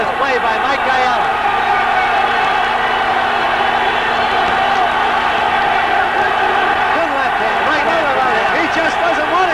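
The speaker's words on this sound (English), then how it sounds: "The crowd on its feet. Listen to the roar here." A boxing arena crowd roars steadily throughout a 1979 featherweight title fight, a dense, loud wall of cheering voices that does not let up, with a commentator's voice faintly audible in the mix.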